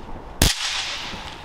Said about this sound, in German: Knallerbsen halt.